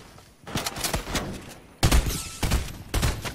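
Gunfire in Fortnite, dense rapid volleys of shots in two main bursts separated by a short pause, loud and close, with no talking.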